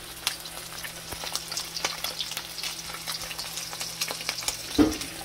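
Battered croaker fish frying in a pan of hot oil, a steady crackling sizzle with small pops throughout, close and fairly quiet, with no talking.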